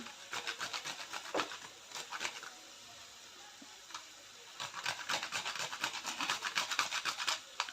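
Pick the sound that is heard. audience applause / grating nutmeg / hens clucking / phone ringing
grating nutmeg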